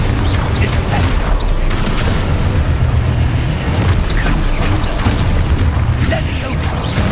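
Spell combat in the Hogwarts Legacy video game brings rumbling explosive booms and crunching mechanical impacts that pile up into a dense, loud, continuous roar across the whole stretch, with no clear gaps between blasts.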